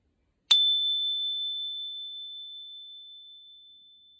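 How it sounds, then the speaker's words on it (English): A single high-pitched chime struck once to clear energy, a clean bright ring that starts sharply and slowly decays over several seconds in otherwise silent surroundings. "it's just gonna be a high-pitched sound to clear the energy and conclude the reading"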